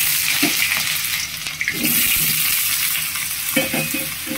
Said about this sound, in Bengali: প্রথমে আমি বেগুনগুলো ভেজে নেব।